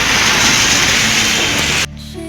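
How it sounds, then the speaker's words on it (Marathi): Steady, dense rain falls as a loud continuous hiss, then drops away abruptly near the end, leaving a quieter background. "पाऊस पडते तर भारी वाटते."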